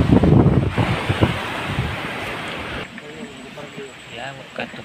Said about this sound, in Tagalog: Malakas ang alon, guys.